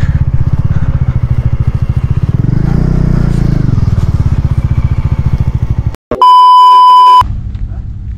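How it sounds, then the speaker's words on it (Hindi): A motorcycle engine runs steadily and loudly at the Bum La Pass army camp near Tawang, Arunachal Pradesh, while the bike is wheeled aside. It cuts out near the end and a sharp electronic beep follows for about a second. "तो पहले बाइक यहाँ पे साइड कर लेते हैं"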